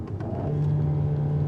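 Alpine A110 GT sports car engine pulling steadily under acceleration in first gear, a close, continuous droning growl with a strong low hum that stays loud and even throughout.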